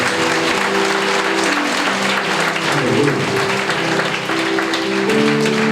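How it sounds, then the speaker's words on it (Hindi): A church congregation claps for Jesus during a Hindi sermon, with dense, steady applause that fills the space from start to finish. The clapping sounds close and loud, and voices murmur faintly underneath. "यीशु के लिए ताली बजाओ, यीशु के लिए ताली बजाओ।"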